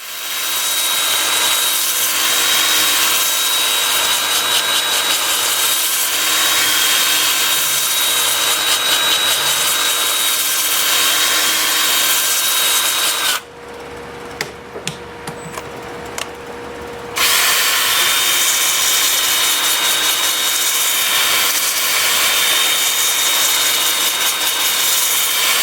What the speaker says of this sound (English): I'm starting the sanding at 80 grit with my 2-inch disc.